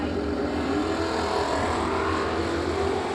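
A Datsun race car at speed during a 20K drag racing event, a steady loud engine roar that holds constant throughout, heard from a distance with no talk.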